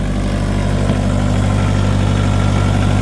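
Diesel engine idling steadily after a cold start, a loud, close, constant low rumble with even throbbing and no pauses or voices.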